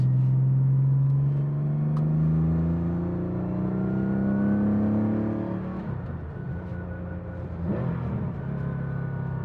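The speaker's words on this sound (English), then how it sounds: "Car is very fast." A 1985 Porsche 911 with a 3.6 Varioram conversion pulls hard on a smooth road, engine note rising steadily then shifting and climbing again, loud and continuous from inside the car.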